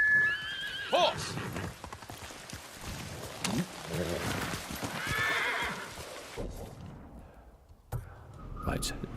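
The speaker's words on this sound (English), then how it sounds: "Horse!" A horse in the video game Ghost of Tsushima whinnies loudly near the start, followed by clopping hooves and game sounds, with someone talking over parts of it.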